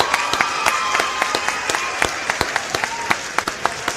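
Crowd applause for a rapper at a battle rap event, crisp claps and a cheering crowd sustained throughout with sharp individual claps standing out.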